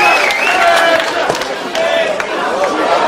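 A crowd at a grappling match shouts and cheers in rising, overlapping bursts, loud and close, with individual voices calling out over the general din.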